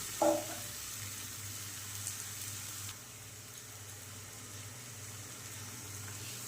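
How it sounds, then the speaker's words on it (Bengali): Chopped red amaranth greens fry in oil with fried coconut, giving a soft, continuous sizzle and hiss close by. A short clatter comes at the start, then the frying settles slightly quieter. "এবার এই কুচানো লাল শাকগুলো এই নারকেল ভাজা তেলের মধ্যে দিয়ে এবার এটাকে শাকটাকে ভালো করে ভাজা ভাজা হতে দেবো"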